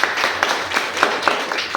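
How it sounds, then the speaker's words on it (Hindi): Audience applause at a direct-selling company gathering, a short burst of dense, fairly loud clapping from many hands with a few sharper individual claps standing out. "ताली होनी चाहिए।"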